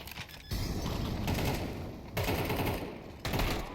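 AK rifle fire in a Counter-Strike match: rapid automatic bursts, dense and crackling, in three clusters with short pauses between, loud and close.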